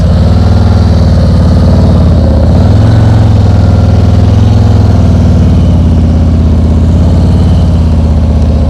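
A motorcycle engine runs loud and close at low revs during slow-speed practice riding, with a steady throbbing idle-like rumble that rises and dips slightly as throttle, clutch and rear brake control the speed.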